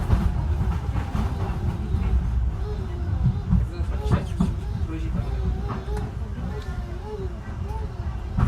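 A Docklands Light Railway train runs between Canary Wharf and Stratford, giving a steady rumbling ride with rail clicks and a faint motor whine throughout, under some background voices.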